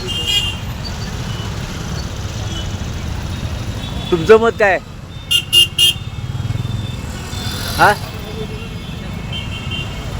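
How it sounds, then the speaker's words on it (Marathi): Traffic on a Pune city street, with a steady roar of engines and several short car horn toots, including a quick run of beeps. People talk over the traffic noise. "ट्रॅफिक, पुण्यातील ट्रॅफिक."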